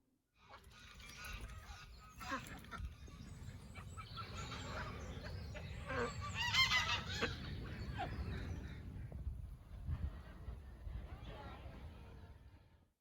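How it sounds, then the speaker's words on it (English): Farmyard chickens clucking and goats calling at a distance, mixed with a low rumble of outdoor ambience and occasional faint voices. "You might be able to hear the chickens and the goats, etc. going on."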